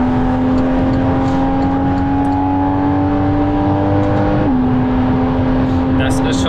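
A Porsche Cayman 981 with the 2.7 engine, PDK gearbox and standard exhaust without sport system hums at steady revs, its engine tone holding then stepping down slightly, loud and close with people talking over it.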